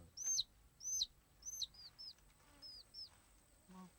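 Chickens used in an Azande poison oracle ritual give about eight short, high, faint peeping calls in quick succession over a quiet, low background rumble, with no talking.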